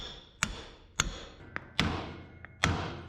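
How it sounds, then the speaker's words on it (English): Sharp hammer strikes on a metal suspension lowering block of a 1967 Toyota Stout ring out one at a time, about six irregularly spaced blows with short metallic decays, fairly close. "Hammer up on that and it'll close that gap up"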